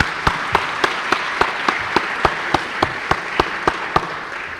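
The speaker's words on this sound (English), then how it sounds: "they deserve another round of applause for coming up here and presenting to all of you" Audience applause for graduating students at a high school engineering program ceremony: a broad wash of crowd clapping with one nearby pair of hands striking a sharp, steady beat through it.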